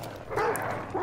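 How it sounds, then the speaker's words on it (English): Dog barking in the multiplayer bounty-hunting shooter Hunt: Showdown, a few short barks set in noisy ambient game sound, moderately close. "quit barking."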